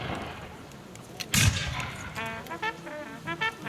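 A single loud gunshot or cannon blast rings out at a battle reenactment of the Battle of Glengarry, followed by scattered voices and shouted commands in the background.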